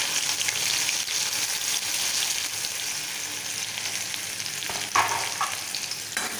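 Onions fry in hot oil for rajma, giving a steady, loud, hissing sizzle throughout with a few brief stirring scrapes near the end.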